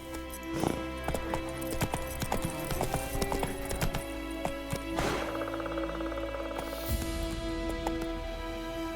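Horse hooves clip-clop in a steady galloping rhythm in The Witcher 3 video game, with the sound close and continuous and a brief neigh partway through.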